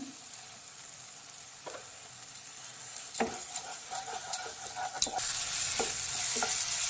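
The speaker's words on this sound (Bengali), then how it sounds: "মশলা ভাজা ভাজা হয়ে এসেছে" Spices for paneer butter masala, including Kashmiri chilli powder, sugar and salt, sizzle in a pan while a utensil scrapes and stirs them in irregular strokes, the frying growing louder toward the end.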